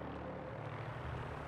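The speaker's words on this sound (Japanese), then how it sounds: "BOS のヘリの音が。" Steady droning rotor and engine hum of a Brotherhood of Steel helicopter in the video game Fallout 4, a continuous even whir with no voices over it.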